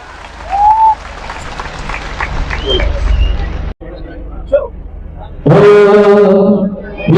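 Crowd applause rises at a Gujarati community convention, a Samaj Abhyuday Sammelan, with Alpesh Thakor. Steady clapping roars for a few seconds, then breaks off, and loud music with singing takes over.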